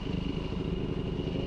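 A 2005 Yamaha WR450 dirt bike engine runs at a steady, loud drone throughout a road ride, with a continuous rumbling exhaust and no noticeable throttle changes.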